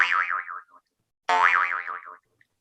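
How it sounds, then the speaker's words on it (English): A small metal jaw harp is plucked twice, separated by a short silence. Each twang is a bright, buzzing tone with a fast wavering wobble that fades out, heard close and alone. "This is a jaw harp."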